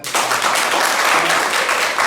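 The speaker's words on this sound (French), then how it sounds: "Applaudissez pour vous." Students in a school gathering in Cameroon burst into loud, close applause, a thick continuous clatter of many hands that starts abruptly and holds steady throughout.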